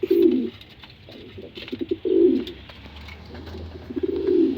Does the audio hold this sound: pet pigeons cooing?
yes